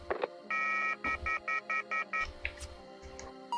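A telephone rings in the video game YIIK, sounding as a series of short repeated electronic ring pulses in an even rhythm, clear and alone, with other faint game tones around it.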